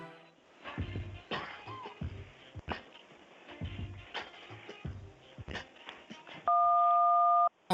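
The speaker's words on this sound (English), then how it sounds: "that little noise, that little beep there, that was the universe telling us that the phone lines are open" A short electronic beep signalling open phone lines on a live radio phone-in show, a steady two-tone electronic tone lasting about a second near the end, following a stretch of music and background sounds.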